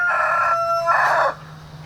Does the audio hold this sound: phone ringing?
no